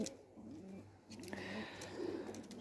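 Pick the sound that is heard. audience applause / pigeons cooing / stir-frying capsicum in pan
pigeons cooing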